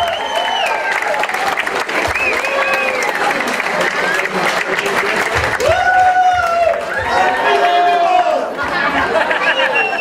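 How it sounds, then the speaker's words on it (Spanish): A party crowd at a winter awards gathering claps for a legend receiving a golden disc, the applause mixed with lively chatter and voices throughout, fairly loud and close. "Un aplauso, un fuerte aplauso."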